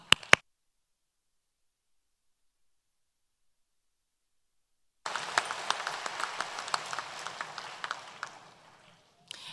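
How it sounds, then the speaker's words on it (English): A graduation ceremony crowd claps a dense round of applause that starts abruptly after a long silence, holds steady for about four seconds, then thins and stops. "we want to give a round of applause to Mr. Gavin Norris and Mr. Israel Medina for their generosity"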